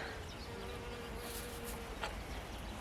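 Bees buzz in a fall no-till garden, a faint, steady insect drone under a hazy outdoor background, with a brief louder pass near the end.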